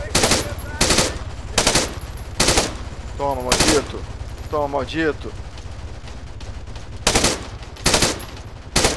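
Machine gun bursts with tracer rounds in the video game Arma 3 fire in repeated sharp volleys, while a player shouts excitedly between and over the shots.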